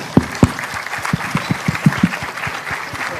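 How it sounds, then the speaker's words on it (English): An audience claps steadily, a crowd's applause with a few sharp, distinct hand claps standing out near the front. "Please give a round of applause."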